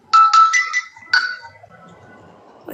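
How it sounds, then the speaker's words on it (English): A mobile phone ringtone chimes in a quick series of bright repeated tones, then one last ring that fades out, leaving low background noise. "I can hear someone's phone ringing."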